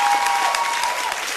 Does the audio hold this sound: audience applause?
yes